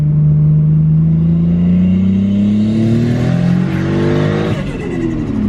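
A Toyota Supra engine revs up steadily, its pitch climbing over several seconds, then dips and settles, loud and close throughout.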